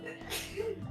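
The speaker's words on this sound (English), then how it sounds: "It just sneezed through the mic." A single short sneeze right into a microphone, close and abrupt, with a breathy burst followed by a brief voiced tail.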